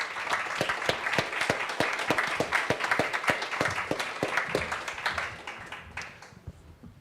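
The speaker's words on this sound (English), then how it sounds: "let's give Ev and Amanda a round of applause." Audience applause for two guests at a faith-and-science forum on forgiveness, a dense, steady wash of many clapping hands that holds for several seconds and then thins out and fades near the end.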